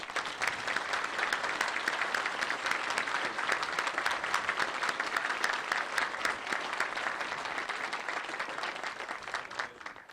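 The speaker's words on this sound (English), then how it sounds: "join me in a round of applause for these individuals" A crowd at an outdoor veterans memorial dedication gives a long round of applause, many hands clapping in a steady, even wash heard from a moderate distance, fading slightly toward the end.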